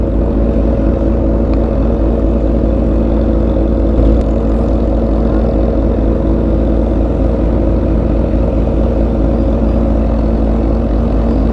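Engines idle steadily in heavy city traffic in Dagupan City, a constant low rumble that holds without pause throughout and has no talk over it.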